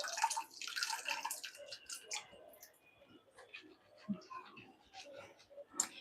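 Water drips and trickles from a freshly drained pan in a home kitchen, a scatter of small irregular splashes and squishy wet sounds, close and fairly quiet.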